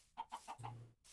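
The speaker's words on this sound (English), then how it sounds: "We've got some chickens." Chickens cluck in modded Minecraft, four quick clucks in a row followed by a low croaking cluck, fairly close and quiet, with no voices.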